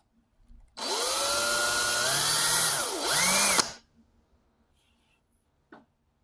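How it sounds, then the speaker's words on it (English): A power drill whirs steadily for about three seconds, drilling out a small hole in a mister sprinkler, its pitch dipping and rising under load, then stops; a faint click follows. "It's a small little hole. I'm gonna drill it out."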